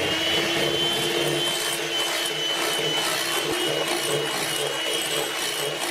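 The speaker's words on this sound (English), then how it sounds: "And we'll just whisk it in." Sugar is whisked into egg whites for meringue as part of making ice cream without a machine, a steady, loud, continuous whirring and swishing that runs unbroken throughout with no talking.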